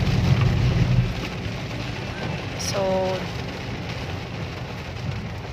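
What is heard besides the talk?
heavy rain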